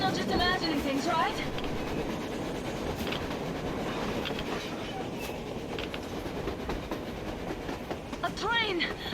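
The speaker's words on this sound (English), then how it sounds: "A train! A damn train on the surface!" A train passes in a stormy video game scene, a steady rumbling rolling noise with clatter and occasional high squeals, loud and continuous throughout while a voice talks over it.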